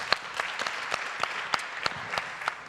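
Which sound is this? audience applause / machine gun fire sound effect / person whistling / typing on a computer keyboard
audience applause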